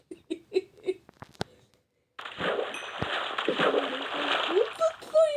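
Water splashing from someone swimming, a steady close churning wash after a short stretch of voices and giggling; talk and laughter come early, then the splashing runs continuously to the end.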